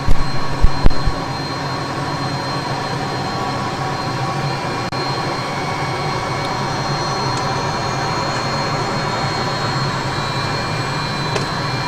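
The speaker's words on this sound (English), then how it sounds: "we taxi out to the active runway and wait for our clearance for takeoff." Learjet engines idle with a steady, loud jet whine and low rumble while the aircraft taxis out to the active runway, a couple of brief thumps at the start, otherwise continuous.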